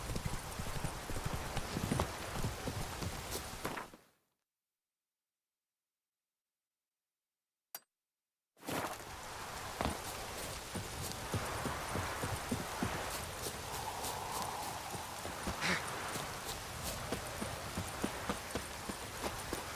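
Horse hooves trot in The Witcher 3, steady rhythmic clip-clop close by with faint clinks of tack, broken by a few seconds of silence midway.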